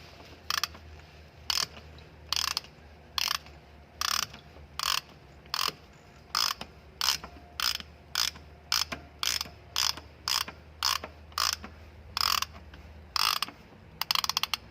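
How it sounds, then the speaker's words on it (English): Ratchet with an extension loosening a tight oil filter on a 2014–2019 Lexus IS250, clicking in about twenty evenly spaced short bursts of pawl clatter, close and clear. "an extension, and some leverage. With another bucket underneath, go ahead and carefully remove the oil filter."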